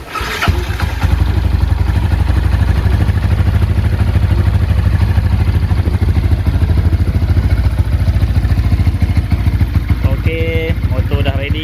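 Motorcycle engine prepared for a dyno test ahead of Burapa Pattaya Bike Week runs at a steady idle, loud and close, a constant throbbing rumble with a faint metallic clatter.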